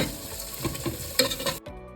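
Two medium-sized onions fry and sizzle in a pan while being stirred, with soft scraping strokes over a steady crackle that cuts off near the end.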